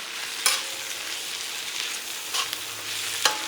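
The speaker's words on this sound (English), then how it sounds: "I'm gonna go ahead and add these other vegetables. Let them start getting some time to cook." Peppers and other vegetables sizzle steadily in a pan, a close continuous hiss with three sharp stirring scrapes spread across it.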